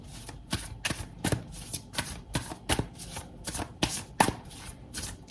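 Tarot cards being shuffled by hand in a quick run of about a dozen crisp riffling bursts, close and fairly loud, with no talking.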